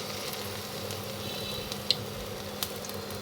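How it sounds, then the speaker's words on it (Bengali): Cauliflower pakora coated in gram flour frying in a pan of hot oil, a steady soft sizzle with a few faint pops, quiet and continuous. "আমরা একটা গরম পাত্রে তেল গরম করে নিয়েছি সো সেখানে আমরা একে একে এখন ফুলকপিগুলোকে ছেড়ে দিচ্ছি"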